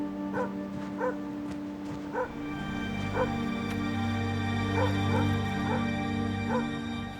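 Several dogs bark and yip repeatedly in short bursts at a snow leopard, fairly close, over a steady low engine-like hum, in snowy Tibetan mountain meadows.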